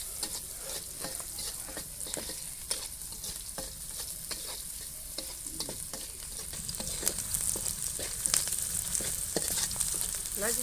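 Fried rice cooks in a wok, with a steady sizzle and repeated scraping stirs and clinks of a spatula. It is moderately close and grows slightly busier toward the end, with no talk.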